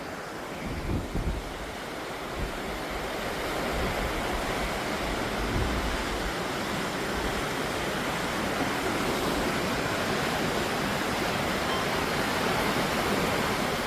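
Steady roar of sea waves breaking beside a railway line in Sri Lanka, a broad continuous wash mixed with wind buffeting the microphone, with a few low thumps at the start and no talking.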